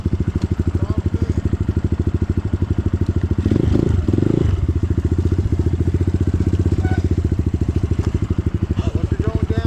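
Enduro motorcycle engine idling with a rapid, even chug, then revving briefly and settling again, loud and close on a rainy ride, with people talking over it.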